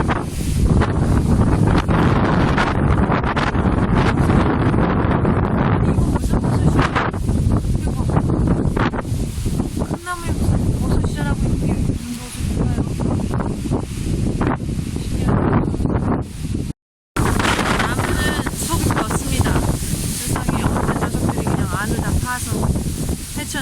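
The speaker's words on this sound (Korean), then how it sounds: "바람이 분다, 바람이 불어." Strong gale in Ireland buffeting the microphone with heavy roaring gusts that rumble nonstop, with a brief dropout midway and people talking under the wind.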